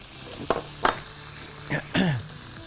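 Ground spice masala with cumin and garam masala is fried in a pan, heard as a low background sizzle broken by a few distinct scraping strokes of stirring, with no voices.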